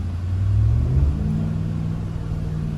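A 2021 Ram 1500 TRX pickup on an off-road course gives a deep, steady engine rumble that swells briefly as throttle is added, then holds a low drone.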